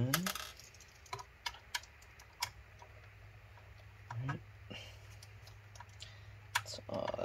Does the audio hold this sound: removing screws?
yes